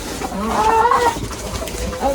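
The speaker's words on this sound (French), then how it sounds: "C'est vraiment trop mignon des poules." Soft hen clucking mixed with murmuring voices and background noise, a few short calls rising briefly near the middle.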